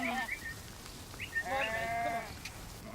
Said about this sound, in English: They were moving the sheep toward the farm